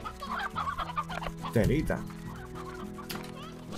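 Chickens cluck in the video game Slime Rancher, with one short, close burst of clucking in the middle while someone talks in Spanish over steady game background sound.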